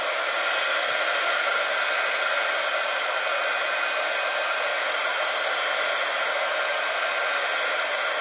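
Steady, loud whooshing roar of a heat tool blowing from above onto embossing powder in a flower mould, holding constant without a break.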